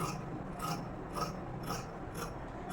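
Scissors cut along the edge of blouse fabric for a boat neck design, making a rhythmic series of five or six close, crisp rasping snips at a steady pace.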